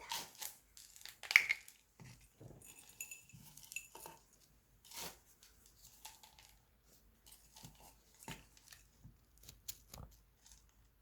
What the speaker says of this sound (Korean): 유박을 깔고 흙을 덮고 그리고 나서 여기다 흙을 이렇게 넣어줍니다.